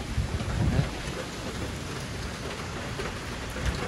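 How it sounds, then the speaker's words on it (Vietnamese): Heavy typhoon rain in Taiwan pours steadily with gusting storm wind and low rumbling surges, a dense, loud wash of noise with no voices. "Hôm nay trời mưa gió bão"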